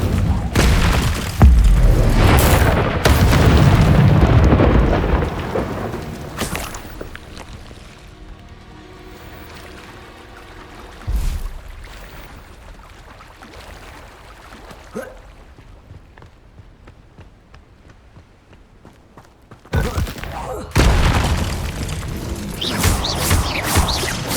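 Incendio fire spells are cast in the Hogwarts Legacy video game, with loud whooshing fiery bursts at the start, a few sharp booms in between, and another burst near the end.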